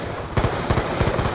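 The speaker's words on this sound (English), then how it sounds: "Ah, that's a lot of machine gun!" Loud, continuous machine gun fire in Black Ops 2 Search and Destroy, a rapid rattling stream of shots with a few stronger bursts and no voices.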